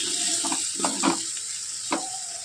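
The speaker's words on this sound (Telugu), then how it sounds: "ఇప్పుడు దీన్ని కొంచెంసేపు మనం వేయించుకొని" Mushroom scramble with egg frying in a pan, a steady soft sizzle running throughout with a few brief stirring scrapes and clinks, close and moderately quiet.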